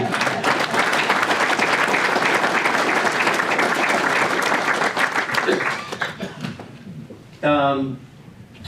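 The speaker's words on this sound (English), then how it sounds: "another round of applause for Rob and Nancy" A dinner audience at an award presentation claps in a loud, dense round of applause that fades after several seconds, leaving scattered claps and a brief burst of voices near the end.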